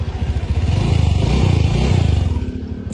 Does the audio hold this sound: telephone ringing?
no